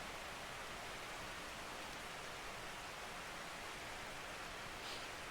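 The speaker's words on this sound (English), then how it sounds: "the rain sound in the background is not part of the game" Rain makes a steady, even hiss in the background, faint but constant the whole time, with no other distinct sounds.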